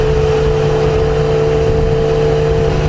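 Steady loud wind roar inside an OGK Kamui 3 full-face helmet on a motorcycle cruising at 80 km/h on an expressway, a dense continuous rush with a constant low drone underneath and no talking.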